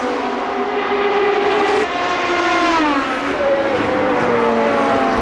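GT2 Porsche race cars, one in historic Martini livery, howl past during the 2008 1000 km of Monza endurance race: a loud, continuous engine roar whose pitch rises and falls as cars pass, with no talking.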